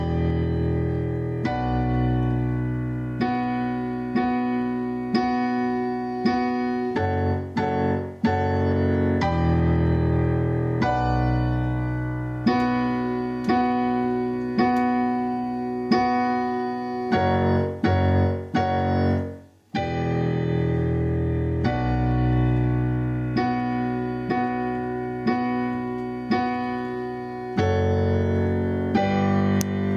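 Solo piano playing a song with both hands together, a slow, steady sequence of sustained chords and melody notes, loud and close, with one brief dropout near the middle.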